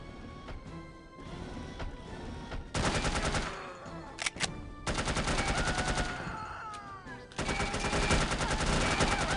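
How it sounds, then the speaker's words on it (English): Machine gun fire in the No One Lives Forever video game comes in several long, dense bursts of rapid shots separated by short pauses, loud and up close. "let's use the machine gun here"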